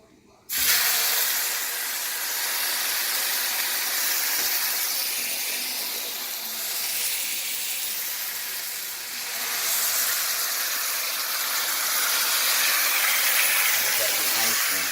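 Pork tenderloin hits hot oil in a pan and sizzles loudly, a steady close hiss that holds for the whole stretch with slight swells in intensity.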